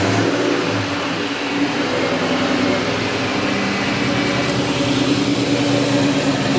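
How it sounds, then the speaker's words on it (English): A Ford Mustang engine, just started after an oil change, runs at a steady idle with a loud, continuous droning hum close by. "and then just start the car."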